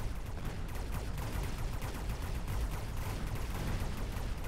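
Gunfire crackles in the strategy game Mechabellum, a dense, continuous volley of overlapping shots and impacts, steady and moderately quiet with no talking.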